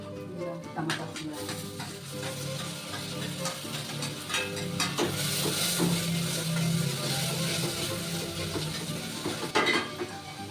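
Onions and tomato fry in a pan for a vegetable sabzi, a steady sizzle with stirring scrapes and occasional light clinks of a utensil against the pan, close and continuous.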